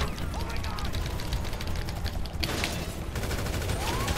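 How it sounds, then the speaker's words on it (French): Rapid bursts of gunfire from a player shooting in a gang-versus-police video game crackle continuously and loud, with busy mechanical clatter throughout. "Mais non je suis en train de tirer."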